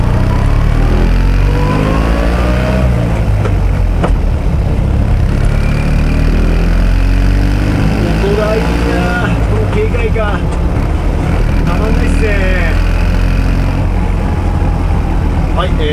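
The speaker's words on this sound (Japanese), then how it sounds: "今回この 650cc のチューンドエンジンどうでしょうか。" A classic Fiat 500 with a tuned 650cc engine drives along, its mid-pitched engine droning steadily and rising in revs. Someone talks over the engine noise inside the car.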